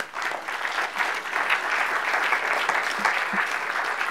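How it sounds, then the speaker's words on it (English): A conference audience applauds as guests are called to the stage, a full, sustained round of clapping heard steadily throughout. "if we can applaud them one at a time would be great"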